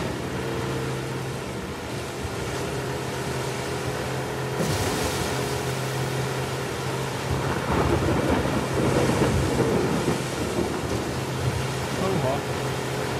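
A thunderstorm in the game The Last of Us Part II, with heavy steady rain and a deep rolling rumble of thunder swelling midway and lingering, loud and enveloping with a low hum beneath.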